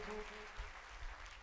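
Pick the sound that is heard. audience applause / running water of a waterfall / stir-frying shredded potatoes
audience applause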